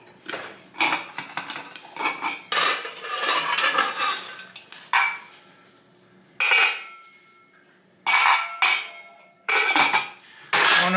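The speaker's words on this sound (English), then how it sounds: "I grind it up in a mortar and pestle so it gets real powdery" Pestle strikes and grinds popcorn seasoning in a mortar: bursts of hard clinking and scraping come in irregular clusters, loud and close, with quiet gaps between them.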